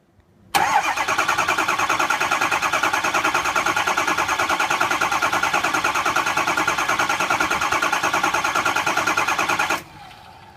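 A 6.0 Powerstroke diesel cranks steadily on its starter without firing, a continuous loud rhythmic churning that runs for about nine seconds before cutting off abruptly.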